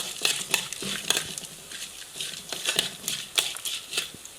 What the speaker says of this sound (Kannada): ಆದಷ್ಟು ಮೀಡಿಯಂ ಫ್ಲೇಮ್ ಇಟ್ಕೊಂಡು ಅದನ್ನು ಹುರಿಬೇಕು